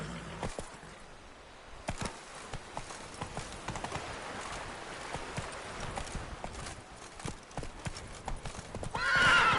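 A horse in The Witcher 3 gallops with rapid, rhythmic clip-clop hoofbeats, close and steady throughout, ending in a loud neigh; a voice briefly urges it on.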